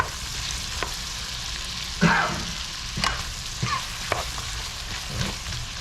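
Vegetables frying on high heat in a pan, a steady loud sizzle with occasional stirring clicks and scrapes throughout, no talking.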